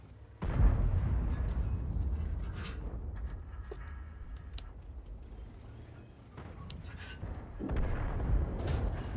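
A tank's ammunition rack detonates in a tank battle video game, a heavy booming blast followed by a long rumbling roar, with further low explosive thuds near the end.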